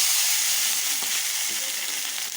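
Tomatoes hit hot oil in a pan for a drumstick-leaf chutney, a loud continuous hissing sizzle with faint stirring scrapes, no voices.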